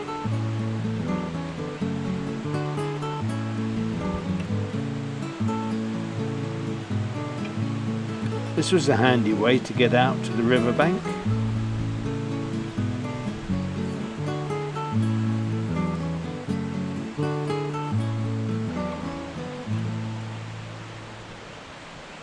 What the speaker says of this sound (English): The river is now to my right, and you can hear the rush of the water.